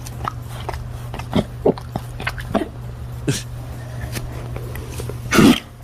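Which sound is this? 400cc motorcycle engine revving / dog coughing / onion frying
dog coughing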